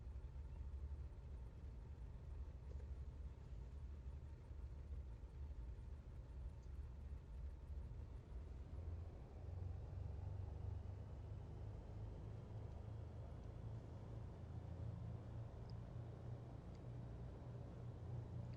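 A twin-engine Cessna 414 in Microsoft Flight Simulator throttles up, its engines a faint, steady low rumble that swells slightly and holds as a continuous drone.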